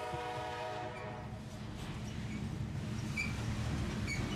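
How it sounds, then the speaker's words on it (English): A freight train led by a single SD70ACE locomotive passes under a street bridge, its horn sounding in long harmonic blasts at first over a steady low rumble and rolling wheel noise that continues to the end. "being led by a solo Thundercab SD70 ACE locomotive"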